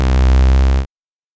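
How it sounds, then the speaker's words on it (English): Saw-wave tone from a synth plugin emulating the Yamaha CS-80, a single loud sustained buzzy chord with rich harmonics that cuts off abruptly after under a second, then silence. "It's really supposed to be recreating the sounds of the CS80."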